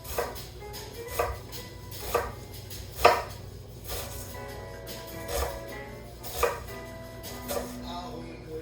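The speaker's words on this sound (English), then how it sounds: "You cut that through, and it's already diced." A knife chops onion on a cutting board in a handful of separate, distinct thuds roughly a second apart, close but fairly quiet over a faint background hum, with no one talking.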